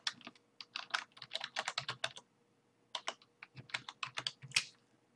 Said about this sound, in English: simply click on the sign in, type in your email address